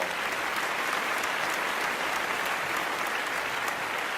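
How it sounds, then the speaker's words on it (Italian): Steady, full applause from the audience at the IMakeMusik 2014 music contest final, a dense wash of clapping that stays at an even level throughout without any talk. "vi meritate un grandissimo applauso."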